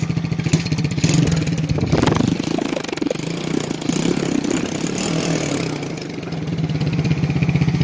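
A newly rebuilt 110 cc Chinese ATV engine runs loud and close, with a steady, rapid idling putter and a brief rev around two seconds in.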